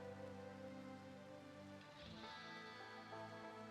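Steady rain pours in the colony-building video game RimWorld, a dense continuous hiss of drops on surfaces layered over a low ambient musical drone, faint and unbroken throughout.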